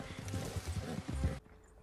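A horse in Red Dead Online clip-clops at a steady pace, with close, rhythmic hoofbeats over a soft wash of ambience that cut off abruptly partway through.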